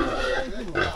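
A pregnant pig on a village farm gives a short burst of grunting, close and fairly loud, mixed with a person talking nearby.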